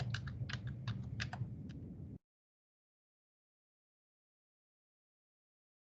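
Quick keystrokes clatter on a computer keyboard, close and clear, for about two seconds before the sound cuts to silence.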